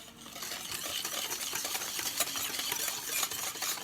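Egg yolks are whisked with sugar in a bowl, making a quick, steady, rhythmic clatter that runs on without a break at moderate volume.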